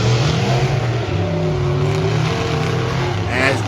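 Monster trucks Identity Theft and Spitfire rev their engines loudly in a race on the Malicious Monster Truck Tour in Skagit, a continuous roaring drone with a rising surge near the end.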